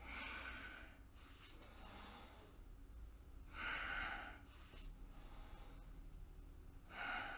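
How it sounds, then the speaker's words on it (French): Slow, deep yoga breaths, with long airy inhales and exhales repeating every few seconds, very quiet and close, with no speech. "Inspire. Expire."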